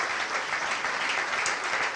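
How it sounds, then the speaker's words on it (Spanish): A church congregation applauds during a sermon: steady, dense clapping from many hands, fairly close and unbroken, with no talking. "Dale un aplauso al Señor."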